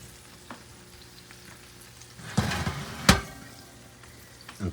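Puerto Rican style pork skewers sizzle softly in a hot pan, with a steady low hiss and a couple of louder crackling bursts as they are moved around.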